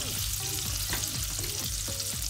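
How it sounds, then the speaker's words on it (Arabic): Butter sizzles steadily in a frying pan, a loud, dense crackle close by, with faint clinks from the pan and no speech. "دابا غادي ندير واحد المقله درت فيها شويه ديال الزبده"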